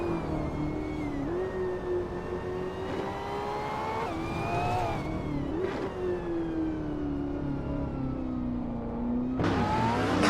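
A 2015 W Motors Lykan Hypersport in a racing video game: a steady, sustained engine drone with shifting pitch as the car revs and changes gear, loud and continuous throughout, with a sharper burst of revving near the end.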